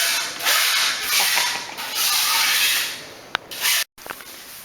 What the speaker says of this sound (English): Scott's spraying it on, and then I'm following behind him, just using this little chamois scrub to swirl it